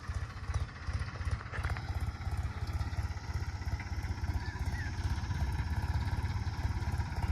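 Tractor engine runs close by with its throttle eased gently, a steady chugging low-pitched putter that stays even throughout, with no voices over it.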